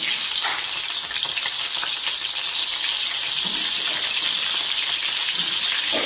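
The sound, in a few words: sea crabs frying in hot mustard oil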